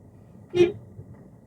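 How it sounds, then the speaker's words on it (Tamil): A single short car horn toot during a driving lesson, moderately loud, rising briefly over quiet background road noise. "இப்போ ஒரு தடவை ஹார்ன் அடிச்சிருங்க"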